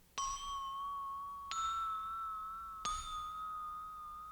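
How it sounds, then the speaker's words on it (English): Three processed bell strikes with added effects, panned left, ring out at even intervals, each a bright metallic ding with a long shimmering, reverberant decay that overlaps into the next. "This is how the bells sound with effects."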